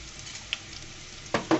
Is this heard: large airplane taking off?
no